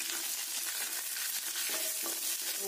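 Peanuts with skins, mustard seeds and curry leaves fry in hot oil in a pan for poha upma, giving a steady close crackling sizzle with a few stirring scrapes and no talk.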